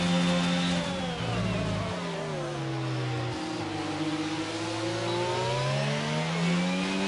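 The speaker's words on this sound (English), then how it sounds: "He's lit up the rear tyres on the throttle." A Formula 1 car's engine in a racing game at the Hungary circuit screams as the rear tyres spin up on the throttle, with loud, continuous, sweeping high revs and shifting pitch.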